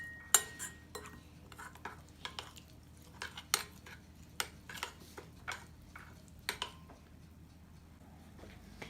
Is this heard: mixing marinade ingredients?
yes